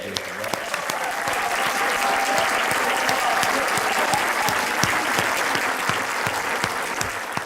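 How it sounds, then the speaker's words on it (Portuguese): Steady applause from an audience at a Catholic conference in an auditorium, honouring a priest, sustained and even for several seconds with a faint voice underneath. "Uma palavra muito especial para o Padre Luís Ferreira, para quem peço uma salva de palmas."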